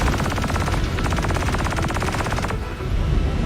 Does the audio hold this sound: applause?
no